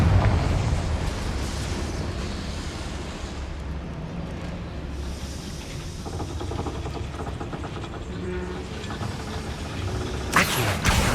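A Confringo blasting spell erupts in Hogwarts Legacy, a loud, dense, rumbling blast sustained for several seconds with churning debris, ending in a brighter, sharp crack near the close.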